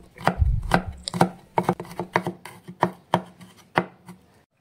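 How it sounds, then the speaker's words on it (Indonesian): Crushed garlic cloves are chopped coarsely with a knife on a cutting board, about a dozen crisp, close, irregular knocks of the blade, alone with no talk. "Bawang putih digeprek dulu lalu dicincang kasar."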